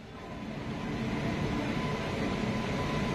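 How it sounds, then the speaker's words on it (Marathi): Konark Express train pulling into Thane railway station, a low rumbling roar of wheels and carriages that swells over the first second and then rolls on steadily, moderately loud. "आणि ही बघा आपली ट्रेन आता इथे आलेलीच आहे।"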